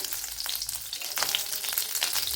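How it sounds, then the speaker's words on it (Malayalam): Ghee poured into a hot steel pan with butter for masala corn puttu, sizzling loudly and continuously at close range, with sharp crackling spits rising toward the end and no talk. "കുറച്ച് ബട്ടർ ഇട്ട് കൊടുത്തിട്ടുണ്ട് കുറച്ച് നെയ്യൂടെ ഒഴിച്ചു കൊടുക്കാം"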